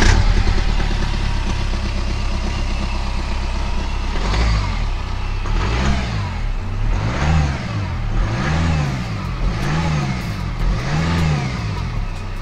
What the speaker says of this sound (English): I think we should do a cold start and the dirty diesel